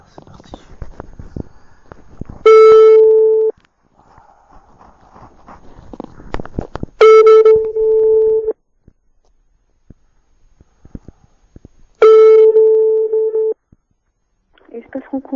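A French telephone call gives a steady ringback tone: three long, even beeps spaced about five seconds apart. Faint clicks and line noise fill the gaps between them.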